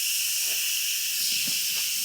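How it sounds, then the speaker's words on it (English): Steam venting with a steady broad hiss from an Instant Pot whose release knob is turned from sealing to venting, continuous and fairly loud for the whole stretch, with faint low clatter underneath. "Steam's gonna come out, be careful."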